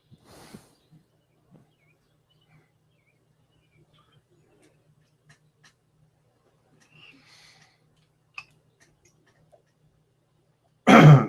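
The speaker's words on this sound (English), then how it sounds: "It's like a dry cough" A faint throat clearing, then a long quiet stretch with small noises, ending in a loud, close dry cough.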